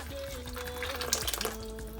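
Chicken broth poured into a stew pot for Ghanaian chicken stew, a soft splashing trickle with light clinks over kitchen background hum.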